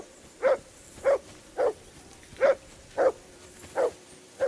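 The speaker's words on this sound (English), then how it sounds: "I assume you can hear that damn dog of yours barking." A dog barks in Kingdom Come: Deliverance 2, seven evenly spaced single woofs at moderate distance over a quiet background.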